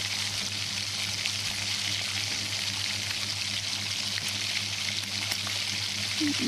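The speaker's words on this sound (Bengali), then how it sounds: "আলুর দমটা কষাচ্ছি" Potatoes for aloo dum sauté in a pan, giving a soft, continuous frying hiss at moderate distance with no distinct stirring strokes and no voices.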